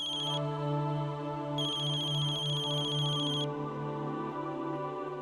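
A phone ringtone rings in a repeated electronic melodic pattern, with a steady tone underneath and bright trilling bursts at the start and again through the middle, loud and close with no talking.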